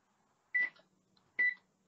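Two short electronic beeps from an oven clock being set, spaced about a second apart, clear and close in an otherwise quiet room.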